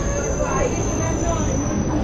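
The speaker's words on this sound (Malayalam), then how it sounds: "ഇവിടെ നിന്ന് വരുന്ന മെട്രോയിൽ കയറി സരോജിനി എത്താവുന്ന" A Delhi metro train rumbles at a station with a loud, continuous low roar and a thin high whine sustained throughout.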